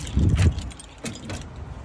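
Keys jangle loudly in a short burst at the start, then settle into quieter metallic rattles while filling an RV's fresh water tank with a hose.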